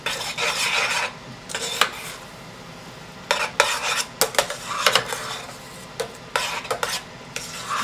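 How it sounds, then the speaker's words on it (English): A utensil stirs miso into quinoa breakfast porridge with sweet potatoes and apricots in a pot, scraping and rasping in short bursts separated by quieter pauses, with no talking. "Stir that in."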